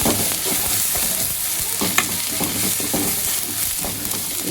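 A spoon scrapes and stirs through a curry as dried spices and powders are mixed in, the pan sizzling steadily underneath with scattered soft clinks and scrapes, close by and without talk.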